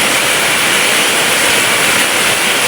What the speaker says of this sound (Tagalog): Ayan, biglang buhos ang ulan.